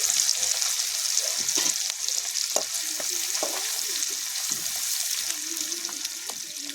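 Ginger, garlic and onion fry in hot oil in a pan for a Kathiyawadi whole-onion curry. A continuous sizzle is overlaid by repeated spoon scrapes and stirring clatter at close range, with no talk.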